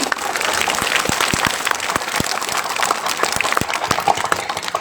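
An audience applauds a live social drama performance, with dense overlapping clapping that holds steady and fairly loud throughout, with a few sharper individual claps standing out.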